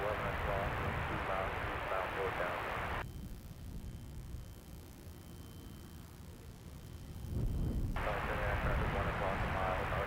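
An Embraer jet aircraft passing, a broad engine roar that is loud at first, drops away for several seconds, then surges back, with talk faintly mixed in.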